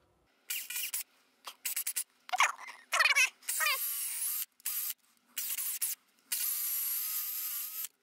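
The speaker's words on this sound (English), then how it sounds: "I'm going to start with a small drill bit, and I'll go to a bigger one" A small bit drills holes in the parts of a pileated woodpecker whirligig kit, heard as a series of short, close high-pitched whining bursts with gaps, ending in a longer steady run.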